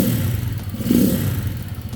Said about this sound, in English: That is a fun little motor. You can hear it.